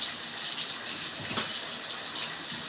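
Steady rushing, splashing water fills the clip, continuous and moderately loud, as cut brinjal is swished and rinsed in a bowl of water.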